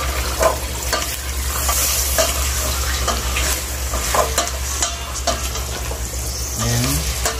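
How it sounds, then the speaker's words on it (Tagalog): Chicken pieces sizzle and are stirred in a hot pan for Filipino tinola, a loud continuous frying crackle with repeated scraping of a spoon against the pan. "So isasangkot pa natin siya. Haluin lang natin."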